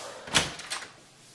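A locked door is rattled and pushed open in a house: a sharp knock-like thud, then a couple of lighter clunks, close and brief, with no talking.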